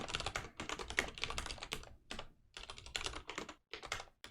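Steady bursts of typing on a computer keyboard as code is written, quick clattering keystrokes in runs with brief pauses, close and fairly quiet.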